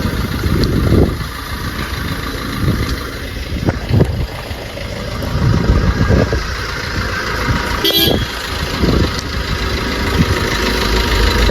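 A Maruti Alto car's engine idles steadily, with other traffic rumbling nearby and a short horn toot about two-thirds of the way through.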